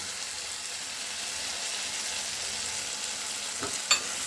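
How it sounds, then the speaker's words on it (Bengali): A poppy seed paste with cashews and raisins fries in hot oil for paneer posto, a steady, close sizzle and crackle with a brief scrape and clink near the end. "ভালোভাবে আমি সমস্ত পেস্টটা তেলের মধ্যে দিয়ে দিলাম"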